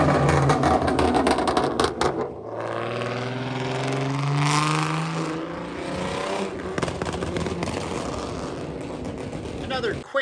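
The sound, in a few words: classic car driving down the road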